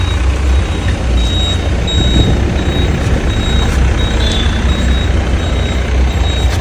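A Tempo Traveller van on a Goa trip backs up with a steady string of evenly spaced reversing beeps over a loud, continuous engine drone.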